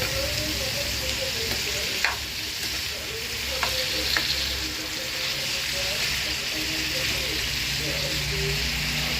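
Beetroot fries in oil in a pan while being stirred, a loud, steady hiss with a few sharp spoon clinks against the pan, recorded close and continuous throughout.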